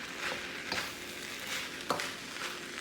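Lobster and bacon fried rice sizzles in a hot pan as it is stirred, a steady close frying hiss broken by soft scrapes and small knocks of the utensil, with no talk.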